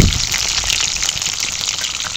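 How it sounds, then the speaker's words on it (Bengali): Pointed gourds (potol) sizzle in a pan, a steady close, broadband crackle of frying with no talk over it. "আর এদিকে পটলগুলো ভাজা চলছে।"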